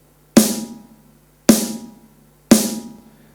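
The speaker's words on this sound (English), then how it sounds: "The next one is the snare drum." Three sharp snare hits from an electronic rhythm pad in a steady pulse, each a bright crack with a short decaying rattle, played alone.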